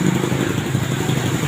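A parked motorcycle's engine idles close by, a steady mid-pitched rumble that holds level for the whole moment without revving, with no voices over it.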